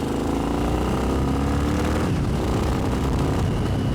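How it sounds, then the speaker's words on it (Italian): A vintage Yamaha XT 600 enduro motorcycle on the road along winding coastal curves, its exhaust giving a steady, close, throaty engine drone throughout with no talking. "Come suona bene questa marmitta!"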